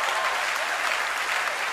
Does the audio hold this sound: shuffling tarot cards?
no